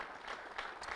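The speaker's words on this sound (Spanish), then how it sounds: "Ok, aplaudimos para recibir la palabra." A church congregation claps together, a short, fairly quiet spatter of applause from many hands.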